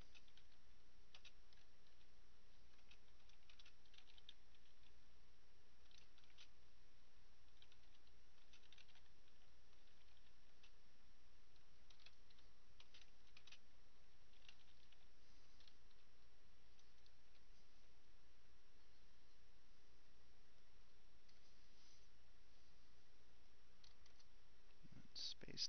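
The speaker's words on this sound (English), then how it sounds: "Just gotta finish typing this up here" Someone types on a computer keyboard, a faint, steady patter of quick key clicks that runs continuously under a low background hiss.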